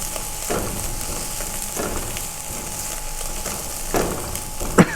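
Green chillies frying in oil for masala fried rice, a steady close sizzle with occasional stirring scrapes and clacks of a spoon against the pan, no voices.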